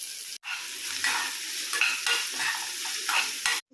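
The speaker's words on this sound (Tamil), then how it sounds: "இப்போ வந்து வெங்காயம் நல்லா வதங்கிடுச்சு." Onion and green chilies sautéing in a pan for a prawn masala gravy, a bright steady sizzle broken by stirring scrapes, with two brief cut-outs.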